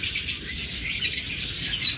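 Small pet birds in a shop, including lovebirds, budgerigars and forpus parrotlets, keep up a continuous chatter of high, quick chirps and tweets at a moderate, close-by level.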